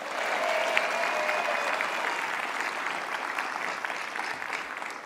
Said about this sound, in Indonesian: Kita kasih tepuk tangan sekali lagi dong,